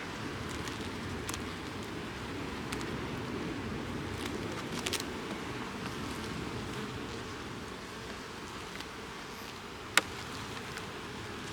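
Honeybees at a two-queen hive working goldenrod hum faintly and continuously, a soft, even drone with one sharp click near the end.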